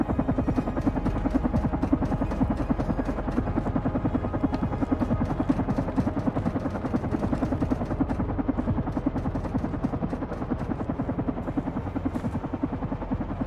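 Helicopter in the video game Carrion, a Relief model 859, its rotor chopping in a fast, steady rhythm of dense pulses, loud and constant with no speech.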